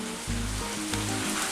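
Battered vegetables drop back into hot oil for a second fry in a vegetable chilli dish, setting off a brief, close burst of bubbling sizzle over a low humming tone.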